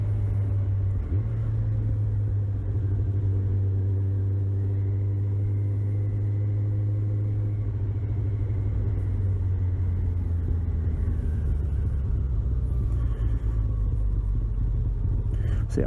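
A Kawasaki Ninja 1000 ABS motorcycle engine hums with a steady low rumble while riding, its pitch shifting gradually, with wind noise and continuous close drone throughout.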